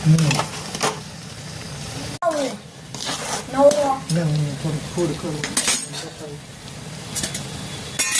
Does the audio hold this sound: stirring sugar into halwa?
yes